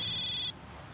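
A phone in a Hindi-dubbed crime thriller film gives a short, bright electronic ring that cuts off after about half a second, leaving a low, quiet background hum.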